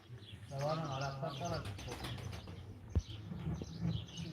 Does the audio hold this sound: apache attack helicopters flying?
no